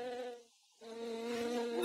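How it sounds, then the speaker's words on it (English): A bee buzzes close by in a steady, tonal drone that breaks off briefly and then resumes, a little louder, with no voices. "How come a bee appeared after we mentioned bees?"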